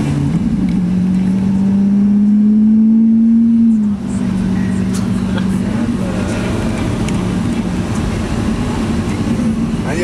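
A Lamborghini Aventador's engine drones loud and close with a steady low exhaust note that rises slightly in pitch, dips, then settles into a sustained rumble, with faint voices in the background.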